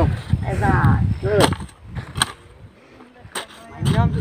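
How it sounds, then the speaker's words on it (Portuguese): Heavy rojão firework rockets going off outdoors: several sharp, loud bangs at irregular intervals, with people talking between and over them. "O rojão aqui, ó. É, rojão pesado."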